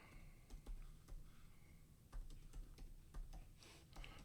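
Typing on a computer keyboard, a run of quick, fairly quiet key clicks in uneven bursts with short pauses between them, with no one talking.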